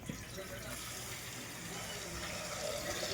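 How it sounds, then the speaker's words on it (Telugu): Faint running tap water splashes steadily into a cooking pot being washed, a soft continuous wash with a quiet clatter at the start. "గిన్నె మంచిగా కడుక్కోవాలి గైస్."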